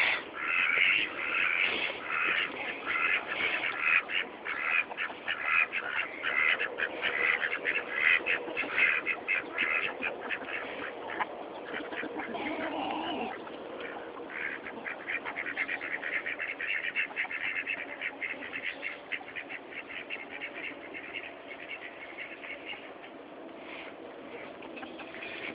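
Ducks quacking loudly as they are let out of their pen and head for a pond, with busy, overlapping calls that are densest at first and thin slightly toward the end.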